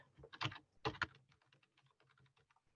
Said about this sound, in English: You just double click and type.